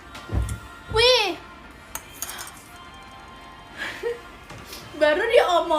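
Spoon and dishes handled at home: a few scattered clinks and light knocks of cutlery and crockery, with a voice and other talk heard between the sounds.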